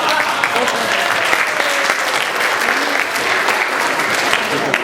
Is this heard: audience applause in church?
yes